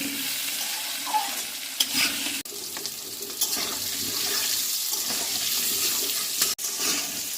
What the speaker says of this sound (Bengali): এভাবে আলুটাকে ভেজে নেব